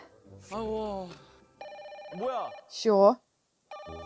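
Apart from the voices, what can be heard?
telephone ringing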